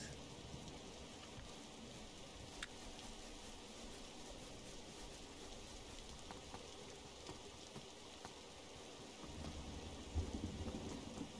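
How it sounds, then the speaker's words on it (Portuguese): Steady rain pours over the Wild West landscape in the Roblox game The Wild West, a broadband wash of falling water with a low rumble of thunder swelling near the end. "chuva."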